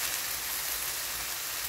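Sliced onion and eggplant frying in olive oil in a pan, a steady close hiss and crackle of sizzling with no pauses or voices.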